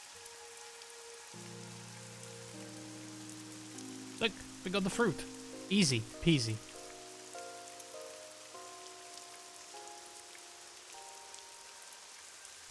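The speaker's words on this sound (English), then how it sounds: "It's raining." Steady rain patters across a scene in the game AI: The Somnium Files beneath layered musical tones, while a voice speaks briefly partway through.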